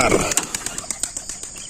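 Homing pigeons beating their wings in flight, a rapid regular train of soft flaps close by over a noisy outdoor background.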